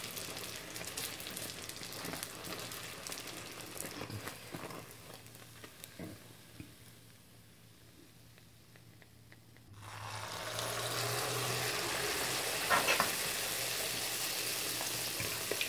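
Algerian sfenj doughnuts fry in oil, giving a steady, bubbling sizzle that dies down to a faint hiss midway, then swells back into a louder, sustained crackle, with no talking.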